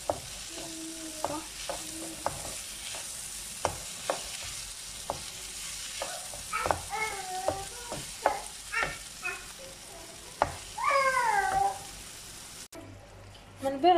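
Spoon stirring pumpkin risotto rice with onion in a pot, producing soft scraping and gentle sizzling clicks throughout, with faint voice-like tones intermittently over the cooking.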